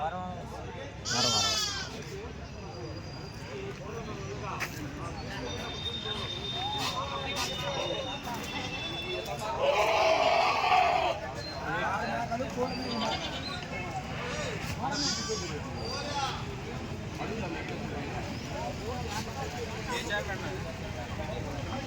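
Goats bleating at the weekly livestock market in Kodad, with a few loud, wavering bleats scattered through the clip over constant crowd chatter, people talking nearby and some distant traffic.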